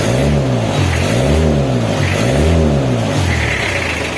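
An Isuzu Panther 2.5 diesel engine (4JA1) is revved up loudly and close by, in about four rhythmic throttle blips that rise and fall in pitch, with no talk over it.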